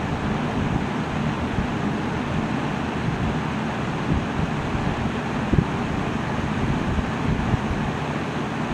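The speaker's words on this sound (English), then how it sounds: "the fan is spinning" A table fan spins steadily, blowing air at about 200 RPM toward a small horizontal-axis wind turbine, making a constant, even whooshing rush with no pauses and no voices.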